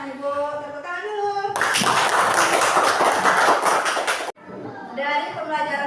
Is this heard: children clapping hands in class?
yes